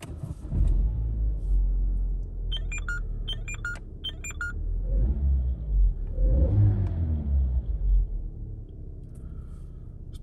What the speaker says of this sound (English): I'll jump in and I'll start it up for you and you can have a listen to the engine.